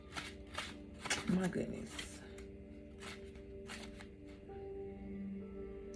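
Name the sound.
shuffling oracle cards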